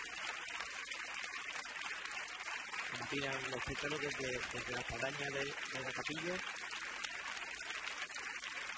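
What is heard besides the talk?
street crowd applauding a religious procession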